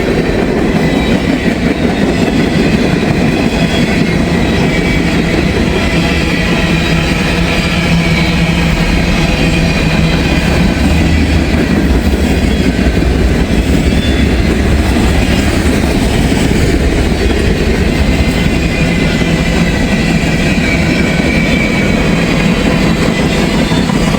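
A long BNSF freight train rolls past close by, a loud, steady rumble of railcars with rhythmic clickety-clack from the wheels on the rail joints throughout and no talking.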